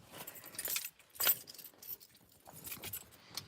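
A bunch of keys jangles and clinks in several brief rattling bursts, close and fairly soft, inside a quiet car.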